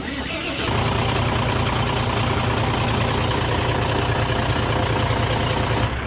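A diesel engine, just rebuilt with new piston rings, cranks and catches, then settles into a loud, steady, rumbling idle close by, running alone without a break.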